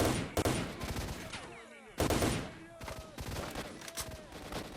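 Bursts of rapid automatic gunfire from STALKER: Shadow of Chernobyl crack close and loud in a nighttime firefight, with whizzing ricochets, shell clinks and distant echoing shots between volleys.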